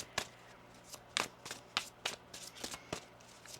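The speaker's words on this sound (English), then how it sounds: "One more shuffle here." Quiet, crisp riffles of tarot cards being shuffled, a series of sharp flutters at uneven intervals with soft handling in between.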